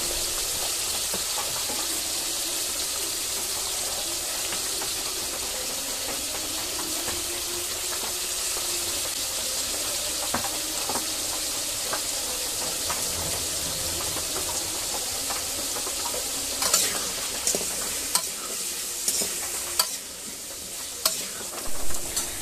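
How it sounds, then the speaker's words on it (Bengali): Potato pieces frying with turmeric and salt in hot oil in a wok, a steady close sizzle throughout with occasional scraping stirs and sharper clicks of a spatula toward the end. "তেল গরম হয়ে এসেছে, এবার আমি আলুগুলো ভেজে নিব লাল করে।"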